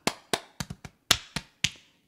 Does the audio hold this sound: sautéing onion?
no